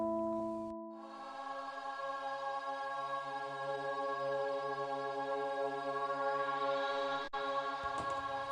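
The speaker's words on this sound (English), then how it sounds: "there is a swoosh that sounds like this in the pre-production" Pre-production swoosh effect from an album demo, a sustained, bright, whooshing wash with steady tonal layers that swells gradually over several seconds, heard alone and fairly soft.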